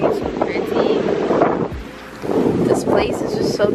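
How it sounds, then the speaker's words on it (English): Steady wind buffets the microphone in a loud, continuous rumble that swells and dips, nearly drowning everything else outdoors. "I don't know if you can hear me well because it's very windy"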